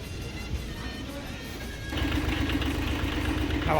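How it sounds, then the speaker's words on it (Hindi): A farm tractor engine idles with a low, steady rumble that grows louder and rougher about halfway through, close to the listener, under some background voices. "ये है ट्रैक्टर"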